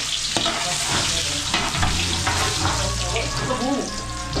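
Ginger, onion and garlic frying in a pan, a loud steady sizzle with crackles and occasional stirring scrapes, close up and continuous.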